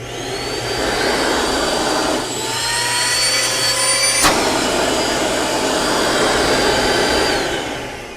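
A carpet-cleaning vacuum runs loudly and steadily with a high whine, briefly dipping then surging back up, close by.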